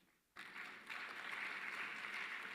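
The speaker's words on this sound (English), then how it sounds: "Let's give him a round of applause again." An audience at a 2023 Basic Education Sector Lekgotla ceremony claps. The applause starts suddenly, swells a moment later and keeps going as dense, even clapping through to the end.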